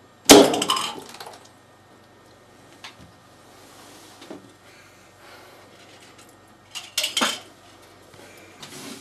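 A desktop slingshot cannon fires at a Red Bull can, giving one sharp metallic clatter followed by a brief rattle and a couple of fainter knocks and clinks later on.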